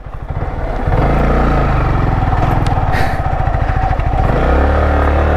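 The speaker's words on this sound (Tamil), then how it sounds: "ஃபஸ்ட் கியருக்கே வண்டி இழுக்க மாட்டேங்குது." A Yamaha R15 V3 motorcycle engine labours in first gear on an off-road trail, droning loud and close with an uneven, strained growl and a rattly edge.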